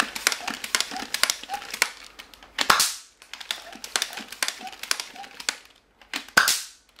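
A Buzz Bee Air Max 10 toy dart blaster is handled and fired, a rapid run of sharp plastic clicks and ratcheting pumps punctuated by two louder pops, fairly close and alone.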